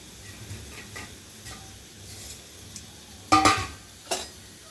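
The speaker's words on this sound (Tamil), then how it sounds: "இந்த ரவையை சேர்த்து இதை வறுத்துக்கிறோம்" Semolina roasts in oil in a pan for kesari. A quiet stirring scrape runs with faint sizzle, broken by a sharp metallic clatter of utensil on pan near the end and one more brief knock.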